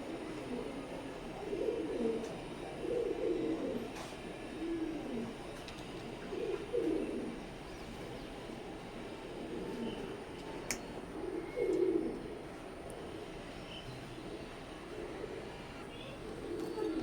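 Teddy pigeons of Oman bloodline cooing in repeated low, throaty bursts, a pair heard close by over faint background hum.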